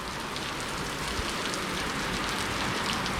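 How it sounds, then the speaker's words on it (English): Heavy rain pours down steadily, a dense, constant hiss of drops drumming on surfaces with no break. "Rain, rain, rain. Listen to it pouring."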